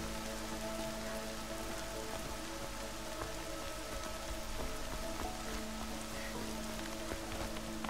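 Rain falls steadily in the video game Horizon Zero Dawn, a dense, even patter of drops on surfaces that continues unbroken at moderate loudness with no talk over it.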